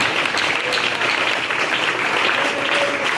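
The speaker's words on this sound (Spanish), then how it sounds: "Dale aplauso a Cristo" A church congregation applauds loudly and continuously, a dense, even roar of many hands clapping that fills the whole stretch without a break.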